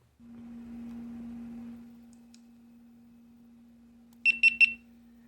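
GoPro Hero 9 camera lets out a quick cluster of three short high beeps near the end, after a steady low hum and a brief soft rustle, close and clean.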